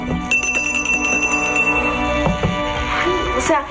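A bell rung at a hostel door chimes with bright, ringing tones that sustain across the clip, a second strike landing near the end, fairly loud over a busy background.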